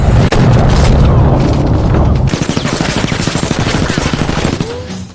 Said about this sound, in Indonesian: terjadilah baku tembak sengit